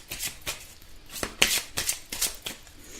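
Angel oracle cards are shuffled by hand in a quick series of crisp riffling bursts, close and fairly loud, with no talking.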